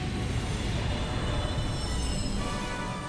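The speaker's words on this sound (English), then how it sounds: "train is now arriving." An in-game train pulls into a station on planet Kerwan in Ratchet & Clank on PS4, a loud, continuous rolling rumble with a thin metallic wheel squeal running throughout.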